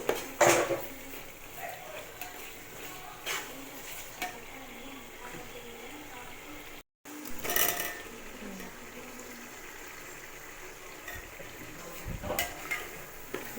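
Mushrooms being stirred into masala in a pot for mushroom biryani give a quiet scrape and clink of a spoon against metal, with soft bubbling and a few louder knocks.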